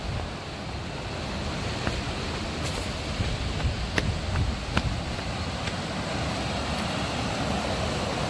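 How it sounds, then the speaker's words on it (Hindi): A waterfall pours between rocks in the Uttarakhand hills, giving a steady, dense rushing roar that fills the whole stretch without pause, with a few faint clicks on top. "पत्थरों के बीच से इधर"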